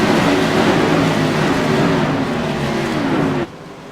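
Mod race cars at USA International Speedway getting on the gas at the green flag for a New Year's Tour race, a loud sustained engine roar with layered revving pitches, dropping abruptly near the end.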